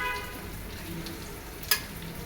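Bele fish fries lightly in a pan with a low, steady hiss. Near the end a single brief clink or spatter stands out, and no one speaks.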